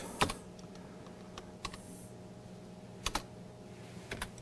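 Keys clack on a computer keyboard while a name is typed into a hunting-portal form: a few scattered, sharp taps and short bursts of several keystrokes, fairly close, over a quiet room hum with no talking.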